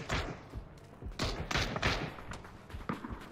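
Gunfire in the battle royale game PUBG during an esports match, a scatter of sharp thudding shots and bursts at varying distances with no talk over them.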